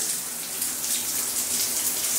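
Water running steadily from a tap or shower in a container house bathroom under renovation, a continuous close hiss of flow with no talking.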